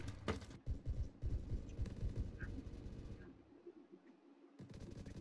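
Rapid automatic gunfire from the Beowulf ECR rifle in Roblox Phantom Forces, a dense series of loud, close shots over the first three seconds, then a quieter gap and a few more distant bursts.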